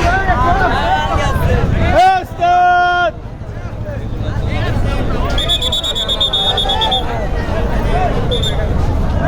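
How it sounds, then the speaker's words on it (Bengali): The passenger launch Parabat 11 moves along a river under a low engine rumble, with people talking and crowd babble throughout, a sharp buzzing horn blast, and later a high tonal whistle. "এক গিয়ার দিয়ে যাচ্ছে পারাবত এগারো"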